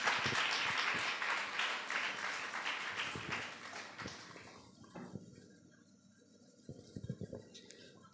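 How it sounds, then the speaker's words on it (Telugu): A church congregation at a prayer hall in Giddalur claps in welcome, a dense burst of applause that fades over several seconds into quiet, followed by a few scattered claps. "దైవజనులను చప్పట్లు కొడుతూ మనం ఆహ్వానిద్దాం"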